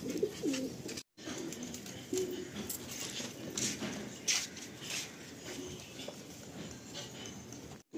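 Madrasi pigeons in a loft coo softly and repeatedly, close by, over a low steady background, with a brief gap near the start.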